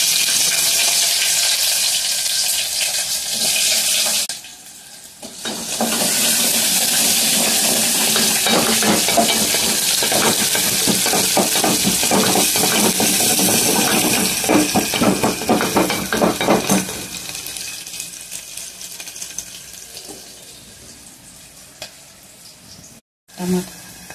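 Chopped onions and mustard seeds fry in a pan with a loud, steady sizzle. Stirring adds occasional scrapes, and the sizzle briefly drops at one point and fades near the end.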